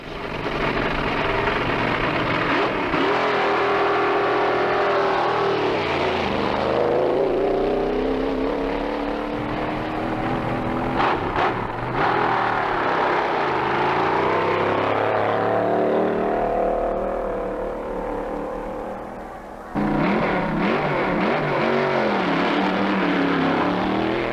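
A drag racing car's engine runs on the strip, a loud, sustained roar that rises and falls in pitch as it revs, briefly dipping once before surging back, with no talk over it.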